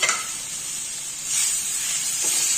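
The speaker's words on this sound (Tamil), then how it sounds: "இப்போ இது வதங்கிட்டு இருக்கையில் இப்போ வந்து நம்ம தக்காளியை சேர்த்துக்கலாம்" Cabbage and tomatoes sauté in a pan with a loud, close hissing sizzle that swells partway through, with no voices.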